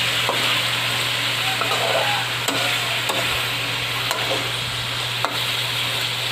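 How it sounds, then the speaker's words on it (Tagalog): Onion and cabbage stir-frying with pigar, Pangasinan's thin-sliced meat dish, in plenty of oil: a continuous close sizzle with occasional sharp clacks of a utensil stirring the pan, and a low steady hum underneath. "Isasabay natin siya sa pagpiprito. Haluin lang ng konti para maluto natin."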